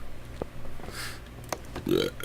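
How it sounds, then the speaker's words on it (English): A man working on a car in a garage lets out a loud belch after a swig of drink, one short gravelly burst near the end after scattered clicks and faint shuffling. "Bad burps."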